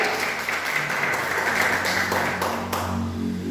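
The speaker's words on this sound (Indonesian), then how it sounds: "Tepuk tangan, haleluya." A church congregation at a Good Friday service claps steadily throughout, a dense wash of applause with a few sharper individual claps standing out.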